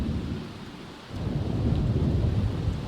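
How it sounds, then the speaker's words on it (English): A thunderstorm with heavy rain in The Sims 4, a steady dense rain wash under a low rolling rumble of thunder that swells after a brief dip; loud and close, no voices. "Not just the rain, he's out in the storm"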